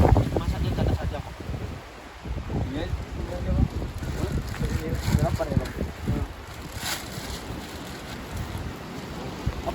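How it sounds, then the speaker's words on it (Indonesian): Strong wind roars and gusts steadily through trees on Mount Singgalang, buffeting the microphone, with a rushing, rain-like hiss throughout; no clear talking. "di sini angin kencang kali di Singgalang"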